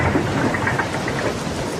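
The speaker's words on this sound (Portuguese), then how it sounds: "Depois do vento, vem a tempestade, que é a melhor parte." A heavy storm over the Atlantic Ocean, with dense, steady rain and a low rumble of thunder filling the sound continuously and loudly, and no voices.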